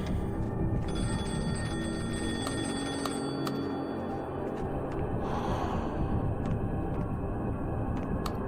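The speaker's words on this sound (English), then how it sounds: "Phone is ringing." A telephone bell rings in repeated bursts, fairly loud and close, with no talking over it.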